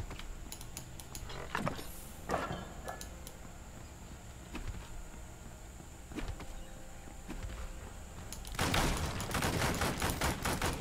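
Dual-wielded pistol shots in the action RPG Wolcen: Lords of Mayhem, sharp isolated cracks spaced irregularly over a quiet hum, ending in a louder dense burst of combat noise.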